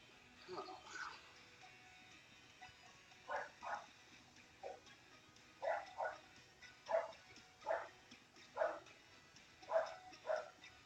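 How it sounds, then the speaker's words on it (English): Dogs bark repeatedly in a room during a drawing session, a series of sharp, moderately close barks and yips in irregular bursts, with some whimpering near the start. "Those are my dogs acting like assholes"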